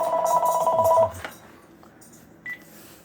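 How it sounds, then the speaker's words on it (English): A home telephone rings on Thanksgiving Day with a steady electronic trill for about a second, then stops, followed by quieter background noise and a brief beep. "There goes the phone already."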